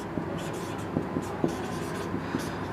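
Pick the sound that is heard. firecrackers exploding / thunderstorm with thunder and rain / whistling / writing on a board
writing on a board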